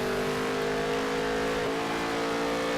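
Race car engine in the video game NASCAR Heat 3 on a dirt track, a continuous loud droning whine with the throttle worked, holding a steady pitch with slight dips and no speech.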